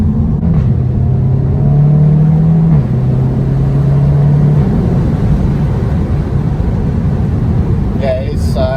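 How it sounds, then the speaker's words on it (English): A Seat Leon Cupra 300 with DSG gearbox rumbles steadily and loud, with a low exhaust note rising briefly in pitch as it accelerates, heard from inside the car with the roof partly open. "I wanted the roof open a little bit just to help you understand what the exhaust sounds like."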